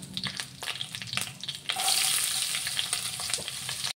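Onions frying in hot oil in a home kitchen, a close, dense sizzle that swells sharply partway through as they hit the pan, with stirring clatter and no talk.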